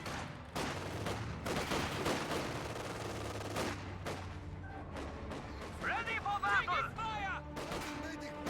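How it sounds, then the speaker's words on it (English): Company of Heroes 2 combat: engineer squads fire rifles in rapid bursts, with fusillade-like volleys and distant booms layered over busy battle noise. "Engineers firing away"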